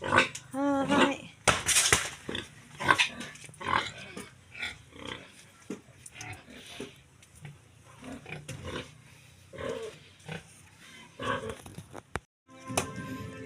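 Pigs grunt and squeal around feeding time at a backyard pen, bursts of loud animal noise mixed with a person talking intermittently over them.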